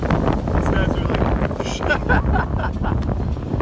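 Strong gusty wind buffets the microphone on a sandy beach with loud rumbling roars, with muffled voices and faint surf beneath.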